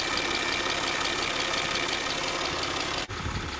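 Worn high pressure fuel pump on a Citroën C6 engine, heard as a steady close mechanical whir and ticking over the idling engine, continuous and loud with a brief dip near the end.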